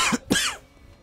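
A person gives two quick coughs close by, then the sound falls to quiet.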